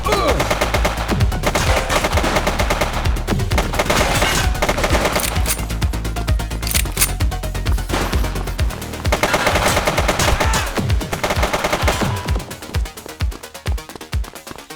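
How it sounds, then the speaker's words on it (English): Intense gunfire in the police video game The Precinct: long loud bursts of rapid automatic shooting nearly continuous for over ten seconds, then a brief pause and more bursts before tapering into scattered shots. "He's shooting! Hold your fire!"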